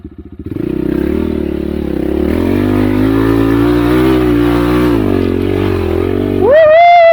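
A Hornet Dakar 250 enduro motorcycle with a 166FMM engine and a bald tyre climbs a hill. Its engine drones loud and steady under load for several seconds, then revs sharply upward at the end.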